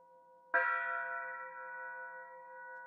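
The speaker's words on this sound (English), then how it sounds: "It's almost like a bowl, like a singing bowl. Or gong. You hear that low note?" A single struck metal note like a singing bowl or gong rings out sharply, then sustains a long, steady, resonant hum with clear overtones, alone in quiet surroundings.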